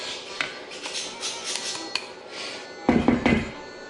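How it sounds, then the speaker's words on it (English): Shredded carrots tipped into carrot bundt cake batter in a mixing bowl, with light scattered clinks of a utensil against the bowl and a short louder clatter and scrape near the end. "now we're going to add in our shredded carrots"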